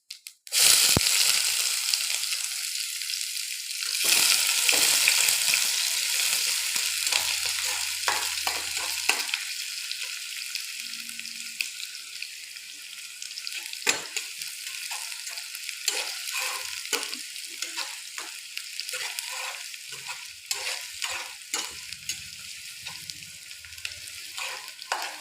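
Onions and cumin seeds frying and sizzling in plenty of hot oil for a bitter-gourd dish, a steady loud crackle with sharp bursts and stirring clatters throughout, no voices.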